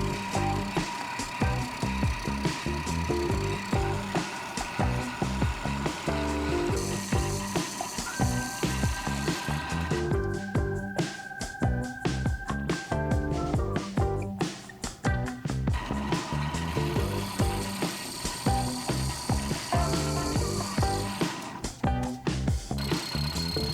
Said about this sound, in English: I'm going to chuck this up in the mill